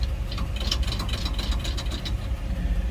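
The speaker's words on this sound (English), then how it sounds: "Inline 6 fires right up." A 1948 Chevrolet 6400 flatbed truck's inline-six engine idles just after starting, a steady, loud, close low rumble with an even rhythmic pulse and no voices.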